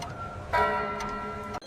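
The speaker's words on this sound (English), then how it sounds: "The first chime of midnight struck like a hammer." Clock chiming midnight in an animated Cinderella fairy tale, a single loud, ringing strike with a rich metallic tone that rises sharply and lingers, ringing on and slowly fading, with a small click near the end.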